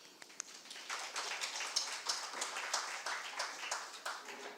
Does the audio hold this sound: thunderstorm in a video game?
no